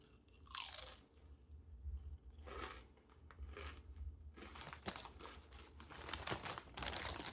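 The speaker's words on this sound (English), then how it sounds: "First bite of the sour cream and onion Farm Boy chip." Crunchy bites of a Farm Boy sour cream and onion potato chip, several sharp crackling crunches close to the mic followed by steady chewing, with no talking.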